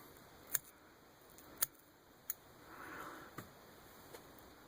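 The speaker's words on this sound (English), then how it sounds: "take my hair scissors, and trim this down" Hair scissors trim fly-tying material on a Clouser-style fishing fly, producing a handful of crisp, close, isolated snips spaced about a second apart in a quiet room.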